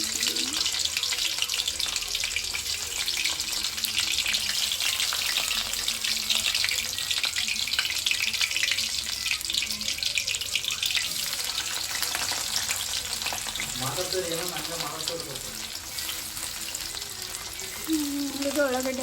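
Garlic and onion fry in hot oil for a green chicken dish, giving a continuous bright sizzle and crackle close by, with stirring scrapes and faint talk toward the end.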